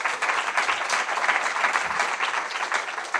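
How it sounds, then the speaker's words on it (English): An audience at an evening event applauds, dense, continuous clapping from many hands that stays fairly loud and even throughout with no voice over it. "So can we give a round of applause again,"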